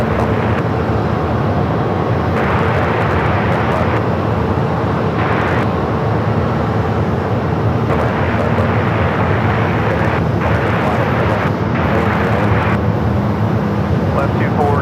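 A jet airliner rolls for takeoff from runway 25 right at Phoenix Sky Harbor airport, a loud, steady broadband roar that holds throughout with gusty wind buffeting the microphone.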